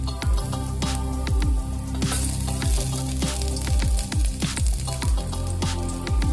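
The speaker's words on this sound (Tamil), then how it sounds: "நல்லா வதக்கிக்கலாம்." Ginger and garlic sautéing in sesame oil in a pot, a steady close sizzle with repeated soft stirring scrapes and clinks throughout, no talking.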